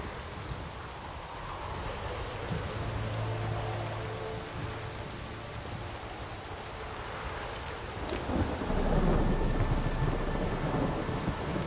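Thunderstorm in The Witcher 3: steady heavy rain hisses throughout while low thunder rumbles roll in the first half, then a louder, closer thunderclap swells near the end.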